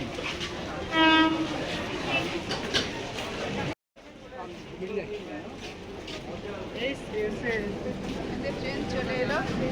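At Jadavpur station, an arriving train gives a short horn blast and then rumbles and rattles in a busy platform din, with voices talking in the background.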